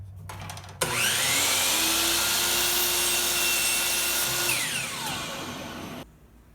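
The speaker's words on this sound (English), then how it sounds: "take them to the miter saw to trim up both ends" A miter saw spins up and slices through glued-up wood pieces, a loud whining cut held for several seconds before the blade winds down, close and with no voices.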